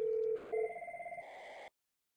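Electronic ringback tone as a call is routed out through a corporate gateway to the public telephone network, a short beep followed by a warbling ring that stops abruptly.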